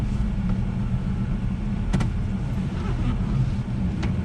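A car rolling past behind a trailer that is backing up, a steady low engine and tyre rumble close by, with no talking.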